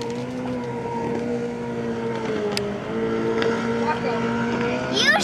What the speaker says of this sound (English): Sounds like a two-stroke engine.